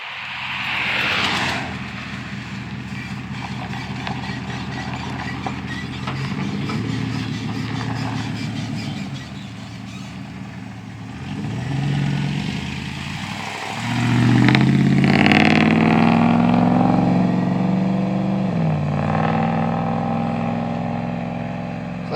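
A 2007 Chevy pickup with a new exhaust pulls away and drives past, its engine note rising and falling as it revs, loud and near, then fading slightly at the end.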